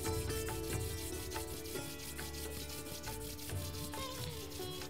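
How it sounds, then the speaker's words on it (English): Hands rub briskly together in a Kundalini yoga session, making a steady run of soft swishing strokes beneath continuous background music. "Rub your hands together."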